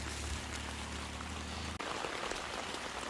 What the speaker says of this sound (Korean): 청량한 빗소리가 들리죠.